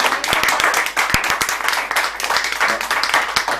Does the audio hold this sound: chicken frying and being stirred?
no